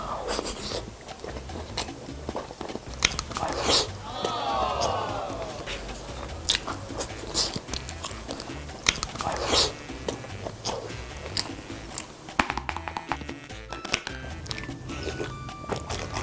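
Crunchy bites and chewing of No Brand fried chicken, crisp close crunches and mouth sounds repeating through the whole stretch with a few rustles and scrapes, without talk.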